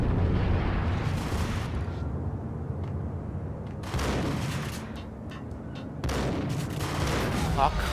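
Shotgun blasts in the video game Max Payne, three heavy booming shots spaced a few seconds apart, each trailing into a rumbling decay over ambient game noise.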